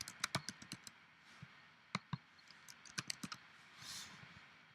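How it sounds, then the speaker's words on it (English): Typing on a computer keyboard to enter label text in Access 2016, quiet irregular key clicks in short bursts with brief pauses, close and faint. "We're going to type the text in our label that says prepared by and then your name."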